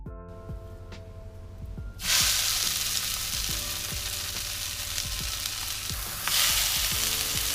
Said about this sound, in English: Alright, so now I'm cooking up some sausage